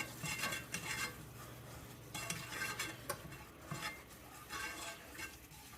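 Food being stirred and mixed in a frying pan, with repeated scraping strokes of a utensil against the pan over a soft sizzle, close and steady, with no talking.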